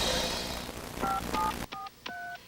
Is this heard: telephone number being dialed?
yes